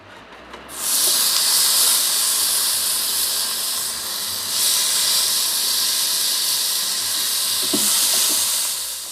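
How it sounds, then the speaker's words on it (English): Chicken legs sizzle loudly on a hot Ninja Foodi grill, a steady crackling hiss that swells after a brief quiet start, with faint pops underneath. "I just had to let you guys hear that sizzle"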